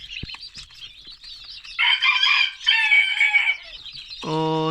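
Chickens, including a Cochin, cluck and chicks peep nearby in a busy, chattering flurry, ending with one longer, nasal call.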